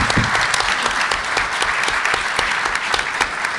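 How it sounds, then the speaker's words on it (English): Sustained audience applause at a SXSW 2022 venture capital panel in Austin, dense and even clapping filling the room for a few seconds with no talking over it. "let's give a round of applause"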